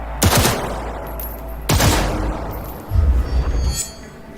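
Bursts of gunfire in the video game Cyberpunk 2077, three loud volleys spaced about a second apart, sharp cracks with rumbling tails and a faint metallic clink near the end.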